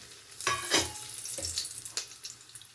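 Ingredients for tomato bath with cashews fry in oil, a close, busy sizzle punctuated by stirring scrapes and clatters.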